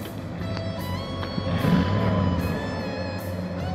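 A 1964 Ford Thunderbird convertible idles with a steady, low engine rumble, heard up close, while faint tonal sounds and background noise drift over it and the engine note swells slightly midway.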